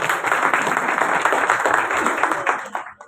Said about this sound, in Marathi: मान्य असेल तर टाळ्या वाजवा.